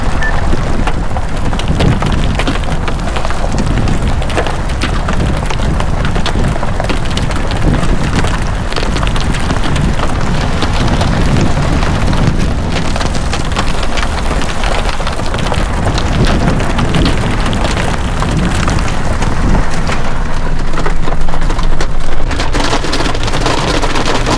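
Steady heavy rain pours down on a cloud-covered mountain trail at about 4,820 feet, a dense, unbroken hiss with wind buffeting the microphone, loud and constant throughout with no voices.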